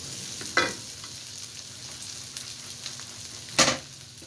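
Garlic frying in a pan for spaghetti, a soft continuous sizzle broken by two brief louder bursts as the pan is stirred, with no talking.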